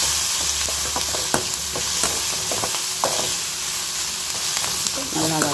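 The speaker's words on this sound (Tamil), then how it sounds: "இப்போ வெங்காயம் நல்லா வதங்கிட்டு" Onions sautéing in a pan for tomato chutney: a steady, close sizzle and hiss of frying with a few stirring scrapes and clicks throughout.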